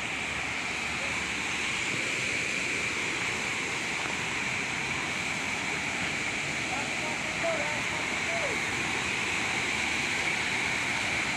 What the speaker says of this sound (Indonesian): Bukit air terjun Sikarim.